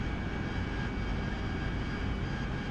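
An AV-8B Harrier's jet engine in the DCS flight simulator hums as a steady, muffled, broadband drone after being throttled back, with no talking.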